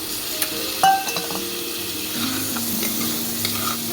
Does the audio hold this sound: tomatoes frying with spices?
yes